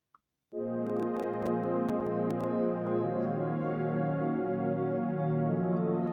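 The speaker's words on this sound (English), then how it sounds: "So I duplicated what was on the first pad into the second pad and the two sounds like this." Two layered synth pads, a Touchy Pad and a Nexus ambient pad, swell in after a brief silence into a sustained, dense chord that holds steadily.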